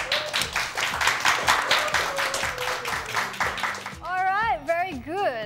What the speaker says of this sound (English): let's give a big round of applause for all our teams here